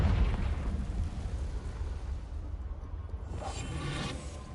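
Confringo fire-blast spell in Hogwarts Legacy, a soft muffled burst at the start settling into a low rumbling hiss, then a second faint whooshing flare near the end, with no voices.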